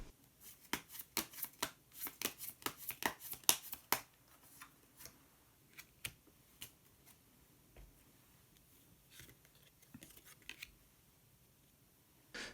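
Cards are shuffled in a rapid burst of crisp riffling clicks, then single cards slide and tap down more slowly in a quiet room with no talking, as one color card is drawn for a New Year fortune reading.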